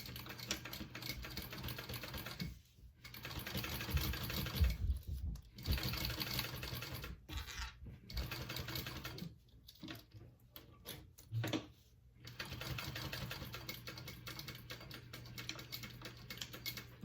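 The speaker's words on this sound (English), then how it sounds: "I'm going to sew along just this side" A sewing machine stitches along the side of a fabric convertible bag in several bursts of rapid, steady chatter, with brief pauses between runs and no talking.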